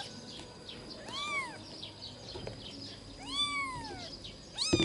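A newborn kitten gives two drawn-out, high, wavering meows, close and fairly clear, then starts a third at the end over quiet room noise.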